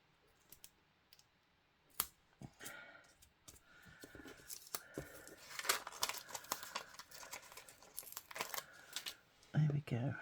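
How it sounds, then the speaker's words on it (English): Scissors snip a paper craft piece in half at a crafting table, with crisp clicking cuts, paper rustling and crinkling close by, and scattered handling noises throughout while a person talks. "Don't know whether a whole one will fit in there, so we'll cut it in half."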